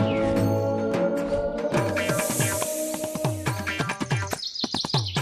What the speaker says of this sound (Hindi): चिड़िया के बच्चों की आवाज